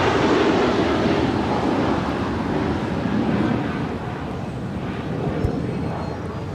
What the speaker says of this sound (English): Do have that FedEx MD-11. It's the next heavy arrival here on 25 left